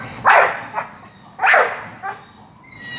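A one-year-old dog gives two loud, close barks, each followed by a softer short yip, evenly spaced with quiet between.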